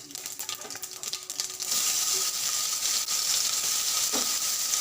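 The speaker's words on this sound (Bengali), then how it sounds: "পেঁয়াজটা একটু ভাজা ভাজা হয়ে গেল" Onions hit hot oil with cumin seeds for a simple Bengali fish curry, bursting into a loud, continuous close-up sizzle that stays dense and crackling to the end.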